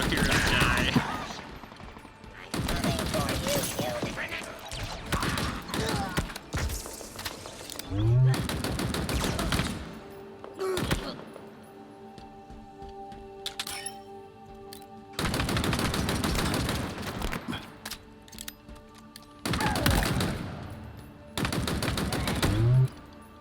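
Rapid bursts of automatic gunfire erupt in a Halo Infinite campaign battle. Several loud, clattering volleys are separated by brief lulls, with some ringing and mechanical effects in between.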